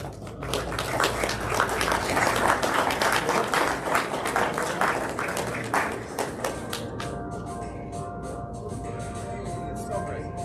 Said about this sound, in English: Another round of applause for Red River,